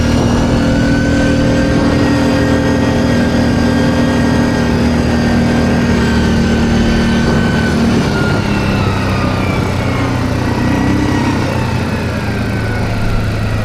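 A Linhai 550 quad bike engine labours through dry, loose off-road sand, holding a continuous close-up drone with slight shifts in pitch and load and no voices.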